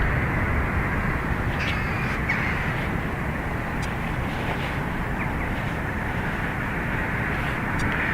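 Aer Lingus airliner departing runway 28 right at Dublin Airport, a steady broad engine roar heard from a distance, with a few faint crow caws over it.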